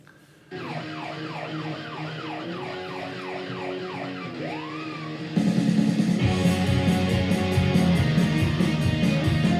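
A wailing siren sweeps up and down repeatedly, then cuts into a louder, denser musical section with driving rhythm.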